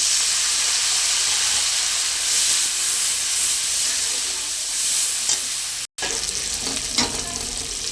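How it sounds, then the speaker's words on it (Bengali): Ground turmeric and red chilli powder fry with a little water in a pan, giving a loud, steady sizzle and hiss with occasional stirring scrapes and clicks, and no talk. "অল্প একটু জল দিয়ে ভালো করে মশলাটা কষে নেব"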